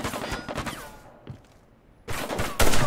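Gunfire in a shooter video game match, bursts of shots before and after a quieter gap, with a loud volley at the end and no talking.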